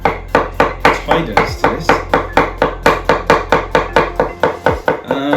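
Cucumber being chopped on a board with quick, steady knife strikes, about four per second, loud and close, while a voice talks briefly over the rhythm.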